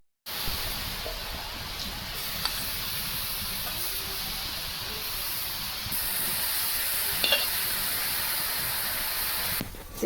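Prawns dropped into a hot frying pan of greens in a rural Indian kitchen give off a steady, close sizzling hiss that grows slightly louder partway through, with no talking.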